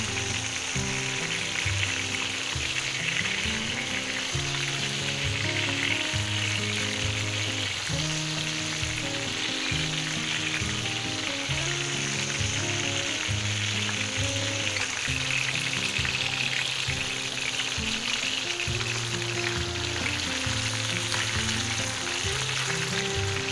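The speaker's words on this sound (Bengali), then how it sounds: "মাছটা ভাজা হয়ে গেছে অলমোস্ট।" Hilsa fish tail and eggplant slices fry in hot oil in a pan, giving a steady, loud sizzle with crackling spits throughout, close by and with no talking.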